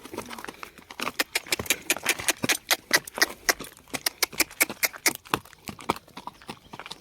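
A mare walks in a village setting, her hooves clip-clopping in a steady, close rhythm of sharp, distinct knocks with a few quieter footfalls between them and no talk.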